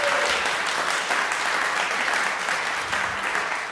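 Concert audience at a graduation recital applauding, dense steady clapping filling the whole stretch at close, even loudness.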